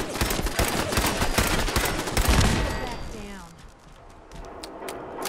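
Rapid bursts of gunfire from a Fallout 4 firefight crackle loud and dense for about three seconds, then thin out into scattered shots and echoes.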